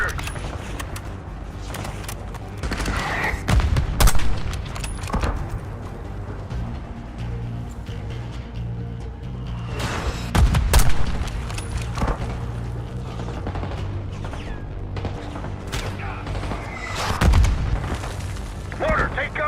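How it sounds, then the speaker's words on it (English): Mortar shells and gunfire in the Call of Duty: Black Ops 6 campaign mission Ground Control, with heavy booming blasts at irregular intervals and sharp shots cracking over a constant rumble of battle, while voices talk throughout. "Mortar, take cover."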